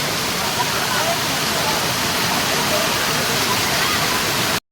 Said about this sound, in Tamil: நீங்களே இப்போ பார்த்துருப்பீங்க வாட்டரோடைய சவுண்டு எப்படி இருக்குதுன்னு